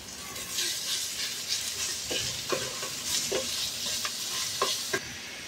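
Ground meat sautéing in a pan for miswa noodle soup, a steady close sizzle of frying with repeated scraping and stirring knocks spread through the clip, no voices.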